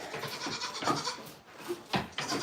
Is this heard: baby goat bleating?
yes